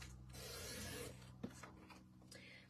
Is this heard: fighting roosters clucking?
no